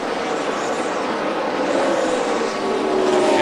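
Several NASCAR Truck Series race trucks roar around the Charlotte oval during the 2010 Lottery 200, a loud continuous engine drone with a slowly shifting pitch as trucks pass.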